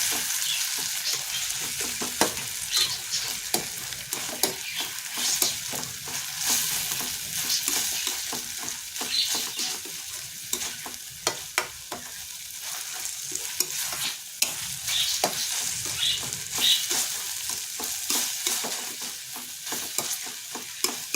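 Egg bhurji with onion and tomato sizzles steadily in a pan while a spoon stirs and scrapes through it, a continuous close frying hiss broken by regular stirring clicks, with no talking.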